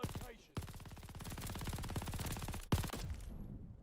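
Rapid automatic gunfire from a gun in Call of Duty Vanguard multiplayer, a dense steady stream of shots lasting a few seconds, with a brief break and a final louder burst.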